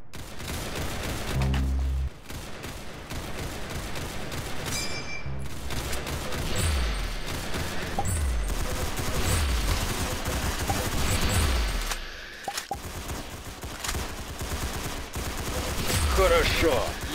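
Rapid gunfire in a shooter video game, dense bursts and volleys of shots running almost continuously and loudly through the whole stretch, with a voice talking over the action now and then.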